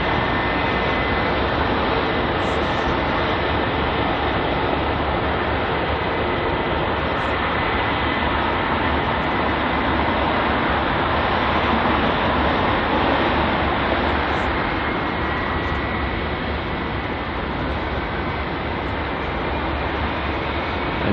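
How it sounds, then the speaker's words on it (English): A British Airways Boeing 777-200 lined up on runway 27 right at London Heathrow, bound for Atlanta, gives a steady, loud, broad jet-engine roar that holds unbroken throughout with no talk. "the aircraft that's just lined up onto runway 27 right is this British Airways Boeing 777-200, which is departing heading to Atlanta"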